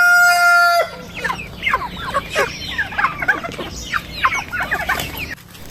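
A flock of Rhode Island Red hens and a turkey call busily, with repeated clucks and gobbling overlapping in quick irregular bursts, close by, after a brief opening tone.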